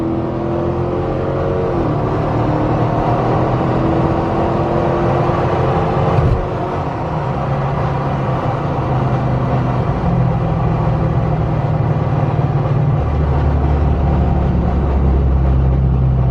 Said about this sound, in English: this car has no problem getting out of its own way, especially when merging onto the highway